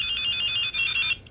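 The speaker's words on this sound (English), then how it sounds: "here's my ringtone" A cell phone ringtone from the video game Silent Hill: Shattered Memories plays alone as a steady, high electronic trilling tone that holds for about a second with a brief dip, then cuts off.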